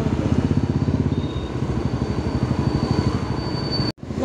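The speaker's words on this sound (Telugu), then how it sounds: "మేము ఇప్పుడు బైక్లో వెళ్తున్నాం అన్నమాట." Steady motorbike ride on the way to a park, the engine's rapid pulsing throb and road rumble loud and close throughout, with a brief dropout near the end.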